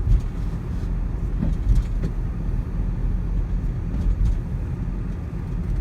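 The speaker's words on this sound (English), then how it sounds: "That car might be coming in here." A car moving near a driveway produces a steady low engine and tire rumble, fairly close and continuous, with a few soft bumps and no voices.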